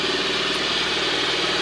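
A Kymco Super8 4T four-stroke scooter idles steadily just after carburetor repair, a loud, even, close engine hum with constant vibration and no voices.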